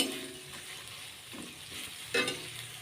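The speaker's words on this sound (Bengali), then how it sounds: "আঁচে খুব ভালোভাবে নাড়াচাড়া করে কষিয়ে নেব।" Spice masala for a rohu fish curry fries over medium-low heat, a soft continuous sizzle broken by a few scraping stirs, the last one sharper and louder.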